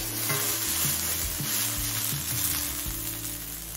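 Okra and onion frying together in a pan, a steady close sizzle with repeated scraping stir strokes, no voices.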